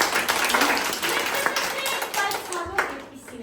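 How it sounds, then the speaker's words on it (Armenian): A crowd of children and adults clapping at a gathering, brisk close applause running steadily throughout with voices mixed in underneath. "Ծափահար եք"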